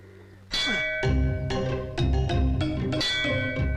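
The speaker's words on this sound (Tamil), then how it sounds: "பூஜை நேரத்துல அடிக்க வேண்டிய மணியா இப்ப எதுக்கு அடிக்கிற?" A temple puja bell rings in a quick series of bright metallic clangs, each strike ringing on with a shimmering tail into the next. The bell is close and loud, with no talk.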